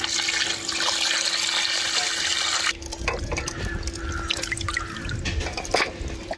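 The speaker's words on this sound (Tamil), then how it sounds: "தண்ணி ஊத்திக்கலாம்." Water pours from a container onto turmeric-coated country chicken as it cooks for a mango-powder fry, a steady close splashing stream that gives way to softer dripping and clinks, with no talking.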